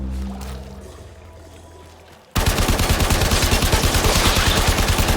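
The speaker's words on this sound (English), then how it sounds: "Hive located. Destroy it with weapon fire." Rapid automatic weapon fire erupts suddenly in the Warframe video game while a hive is destroyed, a loud dense rattling burst that continues without pause after a quieter lead-in.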